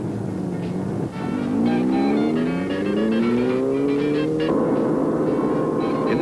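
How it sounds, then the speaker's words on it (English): A 1973 Opel Manta makes a panic stop from 70 mph, tires squealing in a loud rising howl as the car brakes hard, the pitch climbing steadily before shifting near the end. "In this 70-mile-an-hour panic stop, a slight correction was necessary to keep it straight."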